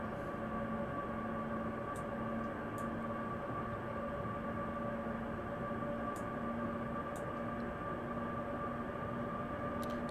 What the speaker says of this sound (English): there's a train coming the other way